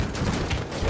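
Rapid, dense gunfire from many weapons rattles continuously in a Battlefield 1 battle, overlapping bursts filling the whole second with a noisy, roaring barrage.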